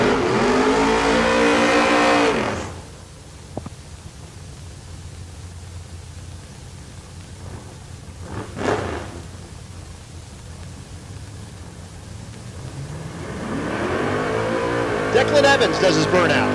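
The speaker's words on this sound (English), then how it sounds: "Declan Evans does his burnout" A drag racing car does a burnout at Tulsa Raceway Park during Race Week, a loud roaring engine fading away, then a quieter stretch with a brief whoosh, before another engine roars up again.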